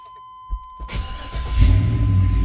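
After a steady electronic chime and a couple of clicks, a Chevrolet Tahoe truck engine cranks and catches, settling into a loud, steady idle close by.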